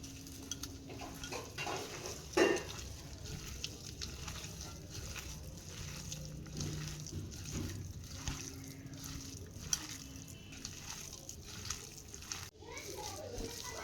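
Mashed pumpkin bhorta is worked together with poppy seeds and salt in a bowl, giving soft, faint squishing and stirring with occasional light clinks, quiet and close.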